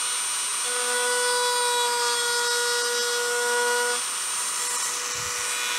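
A power tool whines at a steady high pitch as it cuts into the wooden stock of an M1A or Garand rifle during glass bedding, loud and close, with a brief dip near the end and no speech.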